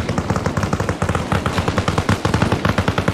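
Dense automatic gunfire in the ARMA Reforger military video game: rapid, overlapping bursts of shots crackling continuously and loud, close up, with no talking.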